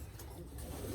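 Racing pigeons cooing in a loft, a short low murmuring coo close by over a dense steady background, lasting about a second with no talk.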